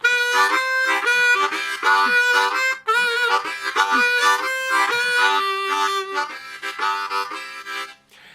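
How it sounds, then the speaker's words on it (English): A harmonica played with tongue blocking plays a bouncy, rhythmic riff with chords chopped into steady pulses, full and close, with no voices. "I'm doing this tongue blocking thing, which adds even more of an extra pulse to it"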